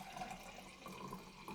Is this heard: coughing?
no